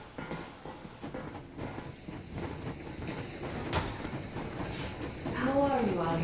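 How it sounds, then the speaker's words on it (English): A steam train lurches into motion in the video game Metro Exodus, with hissing and rumbling rail noise building steadily, a sharp burst of steam midway, and a rising whistle-like tone near the end. "Yermak, full steam ahead."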